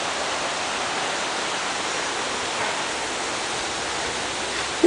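Big Creek, a fork of the Merced River, flows in a steady, even hiss of rushing water, a constant noise-like wash with no breaks and no voices.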